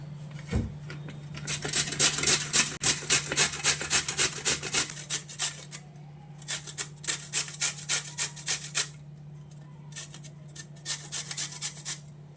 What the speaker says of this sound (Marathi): आणि आता हे किसून घेऊया